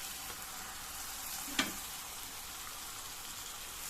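Chopped tomatoes for paneer butter masala sizzle steadily in a hot pan with red chili powder and spices, a continuous close frying hiss with one brief sharp crackle partway through and no voices.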